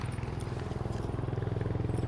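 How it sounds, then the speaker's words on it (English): A big motorbike rumbles past close by, its deep engine throb pulsing steadily and loudly for a couple of seconds. "so quite a big motorbike just passed"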